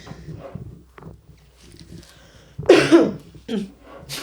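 Two short, harsh coughs, the first louder and rougher, follow a stretch of quiet murmuring and faint shuffling, close to the listener.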